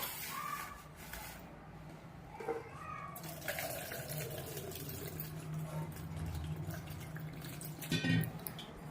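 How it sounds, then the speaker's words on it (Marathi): Soaking water is drained off a bowl of soaked ration rice, a faint, close trickle and splash of pouring water with small clinks, fairly quiet throughout. "ते आता आपण ह्याच्यातलं पाणी काढून घेऊया."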